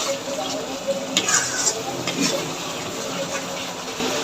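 Packet curry spices being stir-fried in oil for a broiler chicken curry, a steady close sizzle with scraping stir strokes and occasional utensil clinks, no talking.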